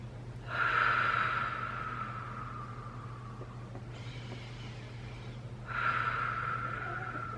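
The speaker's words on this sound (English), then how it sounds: "we want to do a nice deep cleansing breath" A deep cleansing breath drawn during a labor breathing demonstration: a loud, close inhale followed by a long, steady exhale, then a second breath starting near the end, over a low constant hum.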